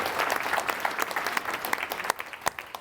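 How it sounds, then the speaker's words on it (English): A crowd at a sales coaching event claps for a coaching client, loud and close, with sharp individual hand claps scattered through the applause. "Clap it up for him."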